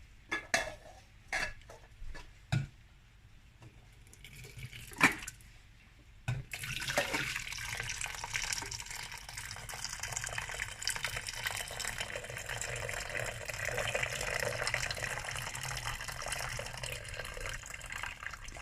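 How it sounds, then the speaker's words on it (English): Kawakawa tea brewed with ginger and lemon is poured into a pot as a steady, close liquid stream, following several sharp clinks of dishes and utensils at the start. "We're ready to put them into a pot, so it's ready to drink."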